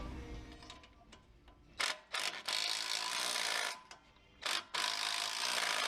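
A ratchet with a 14 mm socket clicks in rapid bursts while tightening 3/8-inch suspension bolts on a 2015 Jeep Wrangler Unlimited lift kit install, the close ratcheting broken by short pauses.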